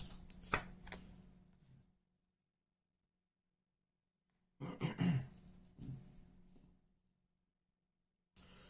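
Tarot cards being shuffled by hand in two separate bursts of riffling and slapping, close and fairly faint, with silent gaps between and no talking.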